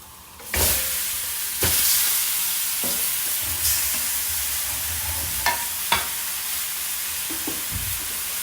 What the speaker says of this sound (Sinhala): ඔන්න එහෙනම් guys මම දැන් මේකට චිකන් එක එකතු කරනවා